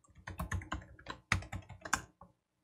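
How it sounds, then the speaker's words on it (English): Password being typed on a computer keyboard at a server terminal: a quick run of close, crisp key clicks in two short bursts with a brief pause between, then silence, no voices. "So I will type in the password right here."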